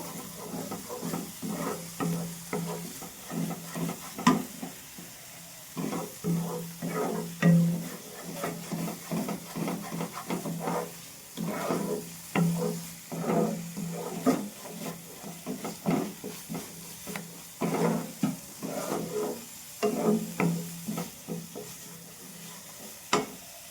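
Potol (pointed gourd) stirred with Gobindobhog rice in a pan, with a steady sizzle of frying under repeated scraping strokes of the spoon, close and fairly loud, with no talking.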